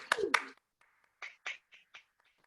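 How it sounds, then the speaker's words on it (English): Participants in an online humorous speech contest meeting clap for the contest speakers, starting with two loud claps and then a few quieter scattered claps coming through separate microphones, with no talking. "let's give a contest a big round of applause, please"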